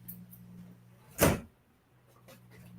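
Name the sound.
window being shut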